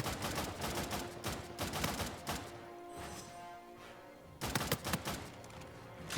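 Rapid gunfire in a multiplayer match of Uncharted 4, loud bursts of closely spaced shots with a brief lull in the middle before another burst of fire resumes.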